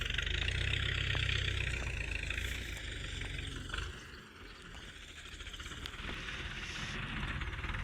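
A tractor engine idles in the open near a sewage-water area, a low steady rumble with a brief dip in level midway before settling back to an even drone.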